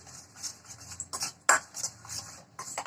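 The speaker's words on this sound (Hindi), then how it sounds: "रिफाइंड ऑयल और पाउडर शुगर को अच्छे से मिक्स कर दें" A spoon stirs refined oil and powdered sugar together in a bowl for jam biscuit dough. Quiet, close scraping and clinking strokes come in an irregular rhythm, with one sharper tap of metal against the bowl.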